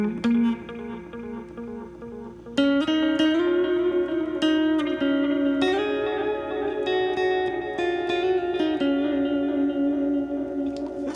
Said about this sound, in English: this is one of the new effects, the Echo Rex. So I guess it's like an Echoplex.